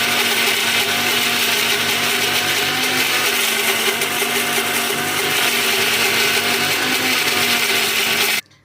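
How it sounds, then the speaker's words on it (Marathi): A mixer grinder whirs loudly and steadily, grinding neem leaves into chutney for several seconds before cutting off abruptly near the end. "मिक्सरला बारीक करून घ्यायची चटणी होती"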